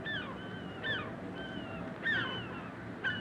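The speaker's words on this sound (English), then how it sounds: "Look at those gulls." Seagulls call outdoors in a series of repeated, clear, harmonic cries about a second apart, at moderate distance over a soft background hiss.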